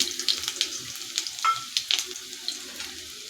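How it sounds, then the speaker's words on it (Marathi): Finely chopped garlic cloves frying in oil with cumin for a dried gram-leaf bhaji, heard as a soft sizzle broken by quick, uneven scraping stirs of a spoon in the pan. "लसूण आपल्याला थोडासा लालसर होईपर्यंत परतून घ्यायचा आहे"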